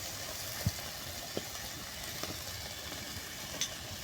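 Onion and turmeric sizzling in a pan, a faint, steady frying hiss with a few soft clicks scattered through it and no voices.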